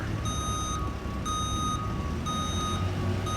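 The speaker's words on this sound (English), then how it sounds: "The backup beep." Regular reversing beeps sound from a crane a short distance away, pulsing evenly over a low idling engine; nobody speaks.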